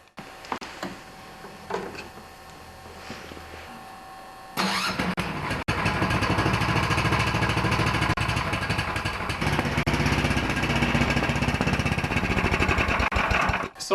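Tecumseh snowblower engine started with a newly installed electric starter: quiet handling noises, then the engine catches and runs loud, with a steady rapid clatter, until the end.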